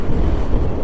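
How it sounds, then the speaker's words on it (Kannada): Strong wind roars steadily and closely across the microphone during a scooter ride, a dense low buffeting rumble that never lets up. "ಗಾಡಿನೇ ಎಳೆಯುತ್ತೆ ಸ್ನೇಹಿತರೆ, ಆ ಥರ ಗಾಳಿ ಬೀಸ್ತಾ ಇದೆ."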